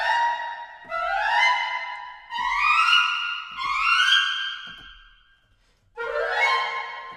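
Orchestral woodwind arpeggio runs from a sample library, several bright rising flurries of notes, each swelling and fading, separated by short gaps, clean and close with no talk.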